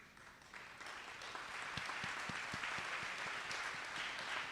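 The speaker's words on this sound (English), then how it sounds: "please stand up so we can give you an applause." An audience at a Georgia NAACP candidates forum claps for educators, a soft, steady round of applause that builds and continues throughout, with individual claps audible nearby.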